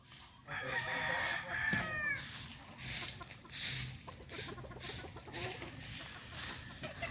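Gamecock roosters on a breeding farm crow loudly near the start, a long drawn-out call, then keep up repeated clucks and softer calls in bursts through the rest of the moment.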